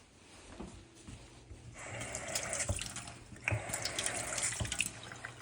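A faucet runs with a steady rushing splash that grows fuller and louder partway through, water hitting a sink close by.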